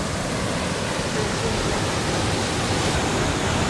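Huilo Huilo waterfall in southern Chile roars as a dense, constant rush of falling water heard from a riverside trail, broad and unbroken with no voices over it.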